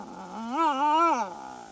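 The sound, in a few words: dingo howling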